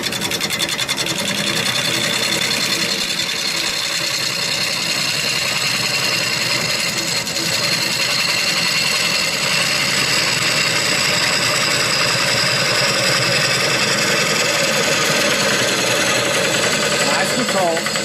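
A woodturning tool cuts into wood spinning on a lathe, a continuous loud whirring, buzzing hiss with a steady motor hum underneath, close and unbroken throughout, with voices talking over it.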